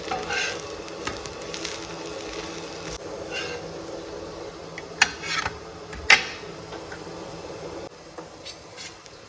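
Quiet, steady sizzling of a garlic powder dosa frying in ghee on a hot pan, soft crackling throughout with a couple of brief sharp clinks.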